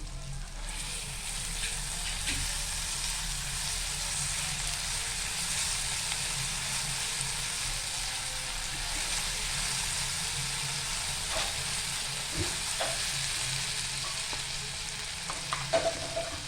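Ginger garlic paste frying in hot oil in a kadhai with chillies and curry leaves, a steady broadband sizzle running for the whole stretch, with a few louder crackles and spatters near the end.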